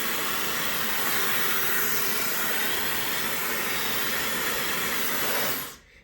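A warmmama ionic high-speed brushless hair dryer, 1500 W at 160000 RPM, blows with a loud, steady airy roar and high whine before abruptly switching off near the end.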